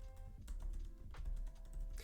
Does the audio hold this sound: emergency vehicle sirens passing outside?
no